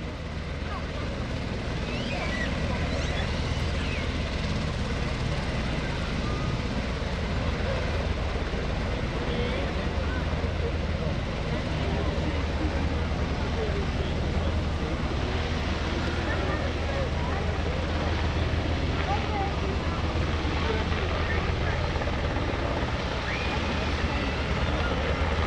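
A UH-60 Black Hawk helicopter flies a demonstration at an airshow at Greenwood Lake in 2021, a loud, steady, heavy rotor and turbine roar that holds at constant strength throughout with no clear pause.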